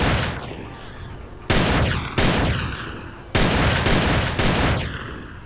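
Gunfire in the video game GTA San Andreas: a few sharp, loud shots at irregular intervals, each ringing out in a long decaying tail, with no talk.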